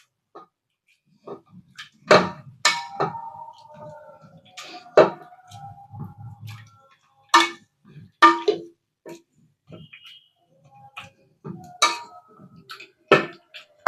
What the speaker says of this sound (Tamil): வடிகட்டி எடுத்துட்டு இந்த மாதிரி ஒரு மேசரை வச்சு நல்லா மசிச்சு விட்டுக்கோங்க